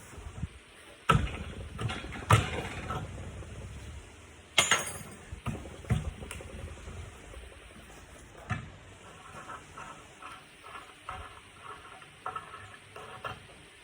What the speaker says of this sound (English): And so let's pop this top cap off.